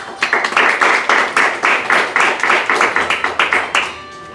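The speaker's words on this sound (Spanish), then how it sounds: "Recibimos a Flavio Ucejo con un fuerte aplauso" An audience at a public-sector management event applauds to welcome a speaker, a close, loud burst of clapping with distinct individual claps that ends fairly abruptly.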